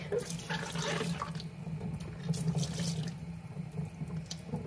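Kitchen tap running steadily into a sink while zucchini are washed, water splashing and gurgling close by with small shifts as the stream hits the vegetables.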